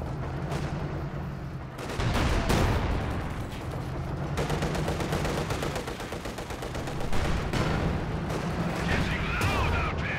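Command Panther tank firing at long range in a World War II strategy game, heavy cannon booms among a dense, continuous battle din of gunfire and explosions, with no talk.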